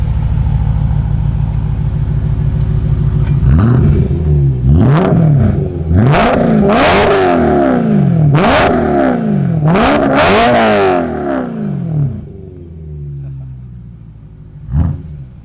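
A BMW E9X M3 V8 fitted with an Eisenmann Race exhaust idles, then is revved repeatedly in sharp blips that climb and fall, loud and close, before settling back to idle; a brief voice is heard near the end.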